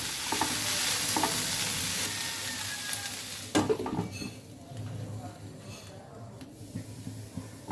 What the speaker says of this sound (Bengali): বন্ধুরা, এভাবে আমরা একটু পর পর নাড়া দিব